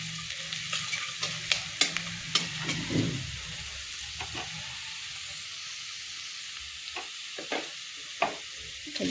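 Masala for a fish and potato curry sizzles steadily in a hot pan, with repeated scraping stirs and clinks of a spoon over a constant frying hiss.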